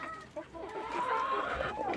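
Young chickens cluck and chirp in a poultry yard, a close, busy cluster of short clucks and squawky calls over two seconds.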